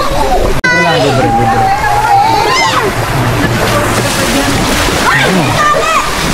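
Someone dives into clear, clean water at a riverside camp resort in Bongabong, Nueva Ecija, making a loud, close splash followed by sloshing, with several voices talking and calling out throughout.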